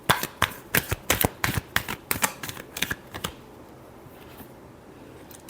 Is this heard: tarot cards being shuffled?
yes